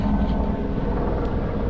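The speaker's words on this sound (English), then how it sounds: "sorry, the helicopter is coming by." Helicopter passing near a creek during gold prospecting in California, heard as a steady, loud rotor and engine drone filling the whole stretch without obvious change.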